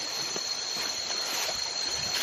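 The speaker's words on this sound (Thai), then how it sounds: "เสียงน้ำไหล เย็นสบายมาก" A mountain stream runs beside a walking path near the Ping River headwaters in Chiang Dao, Chiang Mai, giving a steady, close wash of flowing water with no talk over it.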